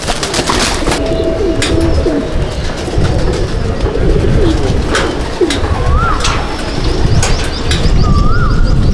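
Pigeons in a loft coo in low, throaty bursts while wings flap and clatter nearby, a loud, busy close-up mix with a voice speaking briefly underneath.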